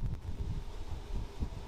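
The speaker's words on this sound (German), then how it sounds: "Richtig windig." Strong wind blows near a concrete-towered wind turbine whose rotor blades are spinning fast, heard as a low, rumbling gust noise buffeting the microphone, fairly faint and continuous with no talking.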